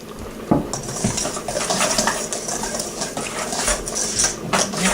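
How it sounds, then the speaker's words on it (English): Dry cornbread ingredients, including salt, baking powder and sugar, are mixed briskly in a bowl, with a steady scraping whisk and clinking utensil against the bowl throughout and no speech. "Mix that up really well."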